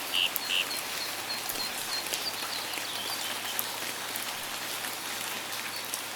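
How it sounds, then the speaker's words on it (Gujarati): A heavy downpour sound effect in an animated story makes a dense, steady hiss of rain that runs unbroken from start to finish, with a faint high chirp near the beginning. "એક દિવસ મુશળધાર વરસાદ પડ્યો."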